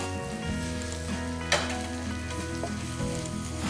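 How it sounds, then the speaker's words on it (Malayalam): Thinly sliced onions with ginger and garlic fry in a pan for a Kerala-style beef curry, giving a steady sizzle with a brief sharp stir or clatter partway through, over a background of sustained musical tones. "ഇതിലേക്ക് വളരെ തിന്നായി സ്ലൈസ് ചെയ്തെടുത്ത 4 സവോള നമുക്കിതിലേക്ക് ഇടാം"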